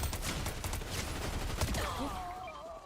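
SMG fire in Fortnite, a rapid rattling burst of automatic shots at close range lasting about two seconds before trailing off into game sounds.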